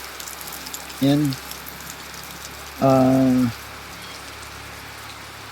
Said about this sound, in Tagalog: Grabe, tuloy-tuloy po ang ulan